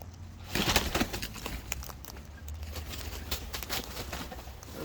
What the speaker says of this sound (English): All these crazy birds.